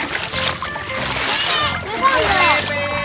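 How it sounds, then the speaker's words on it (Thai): Water is splashed vigorously in a pool around a floating toy truck, repeated close sloshing and splattering while someone talks throughout. "ถ้าเราสาดน้ำแรงๆอ่ะ"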